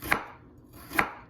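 A knife thinly slicing sweet potato on a board: two crisp chops about a second apart, close and clear, with quiet in between.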